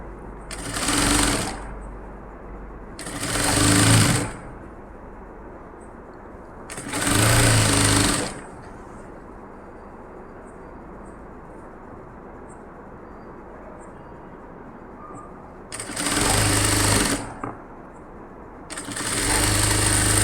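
A sewing machine stitches a nighty in four or five separate bursts of whirring, each lasting a second or two, with quiet room noise in the pauses between runs.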